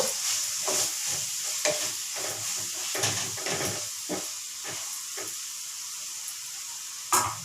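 Tomatoes and spices are stirred in a kadai for biryani, with a soft continuous sizzle and hiss broken by scraping stir strokes at irregular intervals, close by and without talk.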